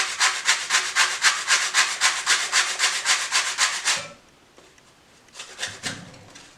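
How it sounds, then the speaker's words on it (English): A lemon is rubbed against a grater to zest its skin into a bowl, giving about fifteen rapid, even rasping strokes up close, then a pause before a few fainter scrapes. "I'm just going to zest it right into my bowl"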